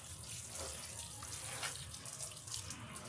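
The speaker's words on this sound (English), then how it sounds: "I'll get the shower to a reasonable temperature" A shower runs at a steady rush to rinse vinyl records after ultrasonic tank cleaning, a continuous hissing water stream, fairly quiet and unbroken, with no voices.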